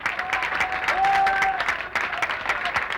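Audience applause at a tribute concert, with steady dense clapping that carries throughout and sustained tones ringing faintly underneath.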